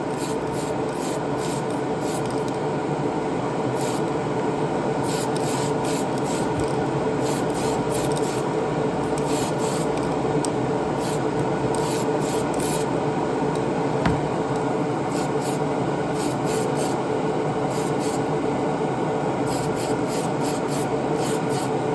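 A rattle can sprays high build primer onto a model in one long, continuous hiss that stays even and fairly loud from start to finish, with no talking.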